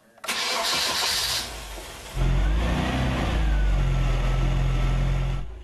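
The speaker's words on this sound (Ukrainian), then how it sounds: "радянський двигун, тепер уже удвічі потужніший, виводить на величезних дисках двотонне авто з гаража" An old Moskvich car with a Soviet engine cranks and sputters, then catches and settles into a loud, steady rumbling idle with a deep low hum.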